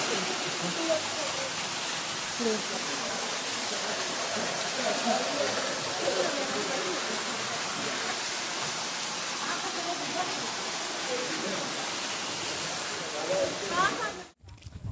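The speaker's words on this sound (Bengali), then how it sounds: "জল চুয়ে চুয়ে পড়ছে।" Steady, dense hiss of water falling and dripping inside a cave in Meghalaya, a continuous wash of sound that holds for the whole stretch before cutting off near the end.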